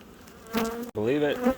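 Honey bees from a huge beehive being removed from a roof, with nursing bees clustered on larvae comb, buzz steadily and close-up, a loud continuous drone broken by one very brief dropout midway.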